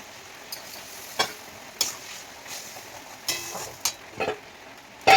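Spices fry in a pan as a little water goes in, a quiet sizzle broken by several short stirring scrapes and clinks, close and intermittent.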